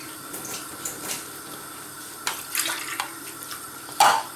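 Water trickles and splashes in short bursts, 300 ml poured into a container while making sweet and sour sauce, ending with a brief louder splash.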